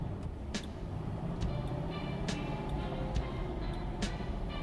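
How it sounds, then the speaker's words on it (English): A truck drives along in a video game, its engine a steady low rumble with faint periodic clicks and rattles, heard alone at low level. "Animation of a driving truck."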